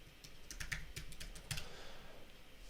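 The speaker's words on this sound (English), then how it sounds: "type in password." Keys clatter on a computer keyboard as a password is typed, a quick irregular run of light clicks with a slightly louder burst partway through over a low background hum.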